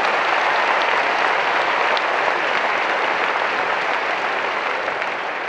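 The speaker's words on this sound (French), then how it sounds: "on applaudit Eric qui est en couple depuis 20 ans" Audience applause at a live stand-up comedy show for a man named Eric, in a couple for 20 years: dense, steady clapping from a large crowd, loud and continuous throughout with no talk over it.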